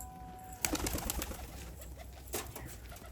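Racing homer pigeons cooing softly nearby, with sudden bursts of wing flapping and scattered clicks against a quiet background.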